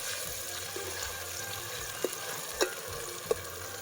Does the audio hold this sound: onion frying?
yes